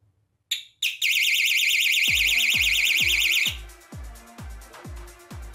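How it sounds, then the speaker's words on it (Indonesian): A cheap touch-activated motorcycle alarm warbles loudly and rapidly for a few seconds after two short chirps, then gives way to a series of repeated clicking beeps. "bila ini tidak ditekan maka alarm akan bunyi"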